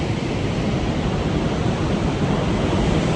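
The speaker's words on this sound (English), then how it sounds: "You are literally standing at the waterfall." Roaring waterfall in pouring rain, heard from very close: a dense, steady broadband rush of falling water fills the whole span at constant loudness, with no voices.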